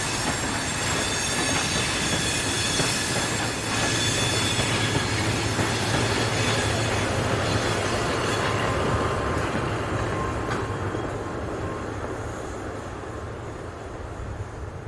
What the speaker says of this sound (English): A trainload of empty tanks is pushed into the refinery, ready for loading.